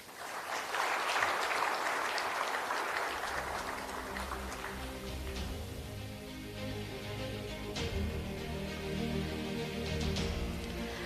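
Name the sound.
audience applause after a speech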